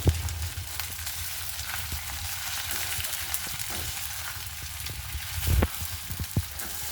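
Onions sizzle and fry in a pan, a steady crackling hiss with occasional louder pops and stirring scrapes, close up and with no talk over it.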